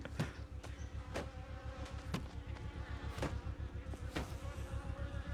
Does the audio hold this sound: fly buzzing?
yes